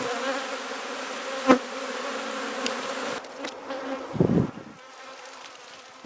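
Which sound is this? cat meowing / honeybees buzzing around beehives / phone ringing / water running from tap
honeybees buzzing around beehives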